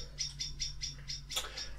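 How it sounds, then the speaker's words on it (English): A bird calls outdoors, a string of about seven high, bright chirps repeated at a steady quick rhythm, moderately faint and slightly distant over a low constant hum, with no talking. "Can you hear that bird?"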